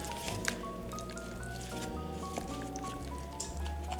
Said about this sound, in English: While Sissy stirs that, I'll just keep throwing in the biscuit pieces.